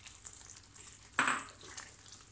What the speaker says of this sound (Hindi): तो ये मैं इसके साथ डाल रही हूँ और इतनी देर पकाऊँगी जितनी देर में ये पूरा मटर गल जाए अच्छी तरह।